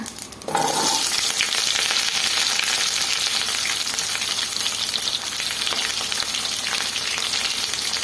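Mustard seeds fry in hot oil in a pan while an onion sambar is being started, making a loud, continuous close-up sizzle with fine crackling throughout, alone without speech.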